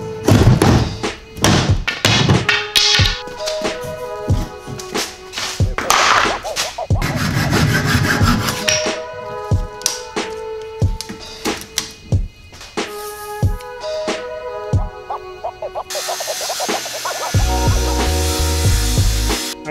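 A wooden panel is cut off a credenza with a saw, giving a run of loud, busy rasping and knocking strokes in bursts and no speech.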